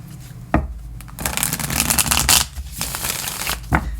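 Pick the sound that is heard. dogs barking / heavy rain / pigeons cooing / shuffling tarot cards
shuffling tarot cards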